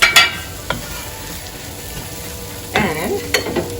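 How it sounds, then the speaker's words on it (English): Thai chilies and whole spices such as cashew, cinnamon, cardamom and cloves fry in a pan for a mutton curry, giving a steady low sizzle broken by a few sharp stirring scrapes near the start and end. "Keep stirring, mix well. And now you add your Thai chilies."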